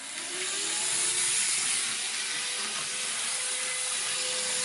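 An N scale model locomotive runs along a test track after maintenance, giving a steady, close whirring hiss with a faint motor whine that holds evenly throughout, with no talking.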